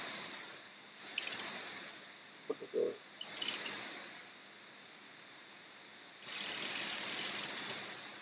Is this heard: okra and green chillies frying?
no